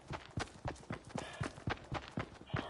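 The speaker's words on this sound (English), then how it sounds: "No, I hear his footsteps." Video game footsteps thud in a quick, even rhythm, about a dozen close, crisp steps in a row with no voices.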